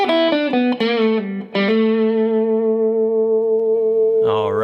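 Electric guitar lick played over the 4 chord through effects, a run of quick distorted notes settling into a long sustained tone, then a lower note at the end, loud and alone.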